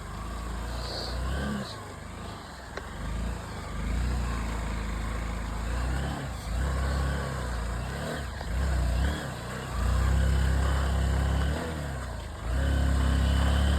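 A vehicle stuck in water or mud on a shortcut, its engine droning loudly and revving in repeated surges without pulling free, close and continuous throughout.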